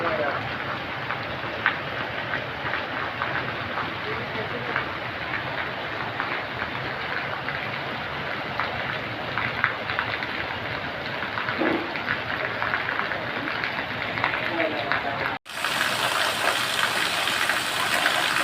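Heavy rain pours steadily in a broad, dense wash that stays loud throughout, cutting out abruptly for a moment near the end before resuming just as strongly.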